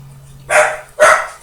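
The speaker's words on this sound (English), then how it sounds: "there's my dog" A dog barks twice in close succession nearby, two loud sharp barks about half a second apart in an otherwise quiet workshop during assembly of a Vostok 2209 watch movement.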